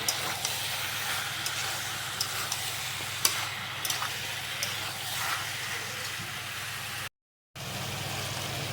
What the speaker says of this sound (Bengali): টমেটোটা দিয়েও ভালো করে একটু নেড়ে নেবো